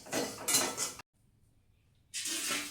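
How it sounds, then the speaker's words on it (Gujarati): A spoon scrapes and stirs a thick homemade hair-dye mixture in a metal kadai after the gas is switched off, two loud scraping bursts separated by a silent pause. "ગેસ બંધ કરીને થોડી વાર આ રીતે હલાવીશું, જેથી આ મિશ્રણ છે તે કડાઈના તળિયે ચોંટી ન જાય."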